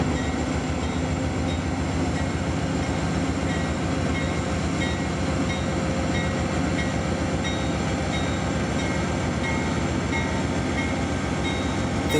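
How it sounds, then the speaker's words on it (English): A train pulls out of Pearland toward Inglewood Yard with a continuous, even rumble of rolling cars and a steady clatter, loud and unbroken throughout. "they pull the train out of Pearland and make their way down to Inglewood Yard"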